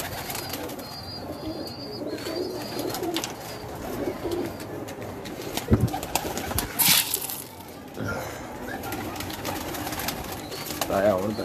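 Golden pigeons cooing in a rooftop loft, soft repeated coos and bird calls mixed with wing and movement noise, someone talking over them throughout.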